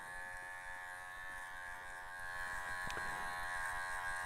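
Cordless Super Iron 120 hair clippers buzz steadily while cutting a person's hair, a thin, constant electric hum at low level with one brief click partway through.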